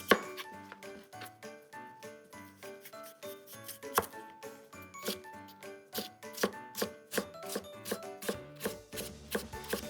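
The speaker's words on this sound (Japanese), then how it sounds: "続いてセロリかな。 まず薄切りにして、" A knife thin-slices celery on a cutting board, a steady run of quick, crisp taps close by. Bright musical tones sound under the cutting, and no one speaks.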